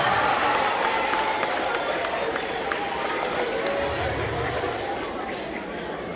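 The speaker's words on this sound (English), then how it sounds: "Round of applause for them." A keynote audience claps together in a steady, dense wash that fills the room, holding through the whole stretch and easing slightly toward the end, with no clear voice over it.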